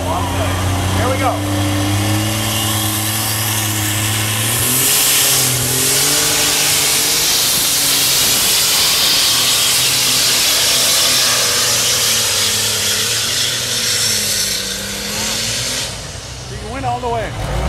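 A Case IH tractor roars through a tractor pull run, its engine revving hard and sustained with loud hissing rush, while an announcer talks over it at the start and end.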